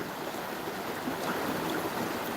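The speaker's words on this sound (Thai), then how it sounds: "ได้ยินเสียงน้ำไหมฮะได้ยินเสียงน้ำไหม" Stream water flows at a nature retreat garden, a continuous soft broadband rushing and hiss, fairly faint and steady throughout with no voices.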